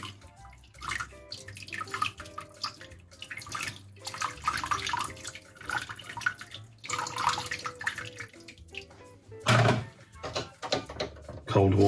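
Boiling hot water is poured over a glass bottle being cut, giving an uneven splashing and trickling with clatters and a sharp knock, while a person talks at times over it.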